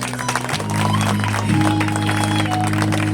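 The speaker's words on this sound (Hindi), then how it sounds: "आप लोगों से भी रिक्वेस्ट है एक बार उनके लिए जोरदार ताली बजाएं" A crowd at a concert in Connaught Place, New Delhi, breaks into loud, sustained applause that swells after the first half second, with a steady electronic hum from the sound system underneath.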